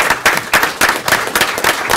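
Audience applause at a City of Brawley council meeting, a burst of clapping from the room that swells and fades in uneven waves over a couple of seconds with no talk.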